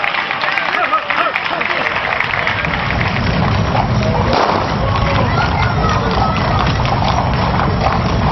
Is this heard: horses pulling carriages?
yes